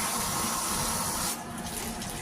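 Cold tap water runs steadily into a kitchen sink, a close, continuous hiss that drops in level partway through as the flow changes, with no talking.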